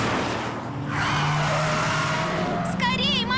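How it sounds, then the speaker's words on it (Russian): Cartoon car skidding on a film set, a sustained tire screech and engine rush under dramatic music, with a bright sweeping squeal rising near the end; excited voices speak over it. "Скорей машину заносит!"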